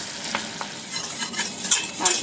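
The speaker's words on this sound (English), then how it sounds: "I'm just going to bring that to a boil." A stevia-sweetened mixture heating toward a boil in a pan gives a brief burst of close sizzling and bubbling, with a few brisk stirring scrapes and light clinks.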